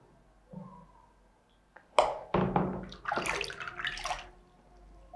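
Water poured from a small cup into a big jug, a splashing pour with a short burst around the two-second mark followed by a louder, sustained gush, close and clear with no talking.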